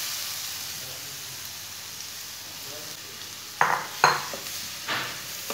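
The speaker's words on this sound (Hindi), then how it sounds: "अब इसे कद्दूकस की हुई गाजरें डाल लेंगे।" Grated carrots tumbled into hot oil with browned semolina in a frying pan, a steady sizzle broken by a few sharp clacks and scrapes of a spoon stirring near the end, no voices.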